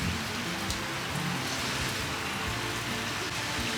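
Steady, dense rain pours down all day at a fishing pond restaurant in Saraphi district, a continuous close hiss of drops on surfaces with no voices over it.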